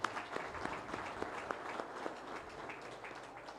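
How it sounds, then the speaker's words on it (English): An audience at a Ugandan health forum claps for the panelists, a fairly soft but sustained round with distinct individual hand claps popping out of the steady patter. "mighty hand clap."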